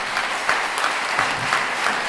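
A crowd applauds a Palestinian teachers' union leader at the Royal Bath, with steady dense clapping and a few louder bursts throughout, no voices over it.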